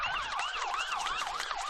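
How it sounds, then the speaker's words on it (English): Fire truck sirens wail at a high school football game after a touchdown, a loud, rising and falling electronic yelp repeating in quick cycles and sounding close, with no talk over it. "Fire trucks, we got a couple here tonight. Sounding the sirens whenever the team entered the field, and apparently every touchdown as well."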